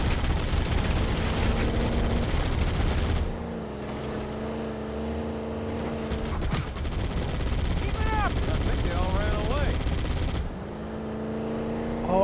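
Rapid Gatling gun fire from the Warthog vehicle in Halo Campaign Evolved, a loud continuous mechanical rattle layered with engine drone and game effects, running for most of the stretch with brief shifts in intensity.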